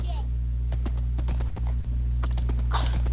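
Horses walking in the video game Minecraft, a run of light, irregular clip-clop hoof taps over a steady low hum, with players talking over it.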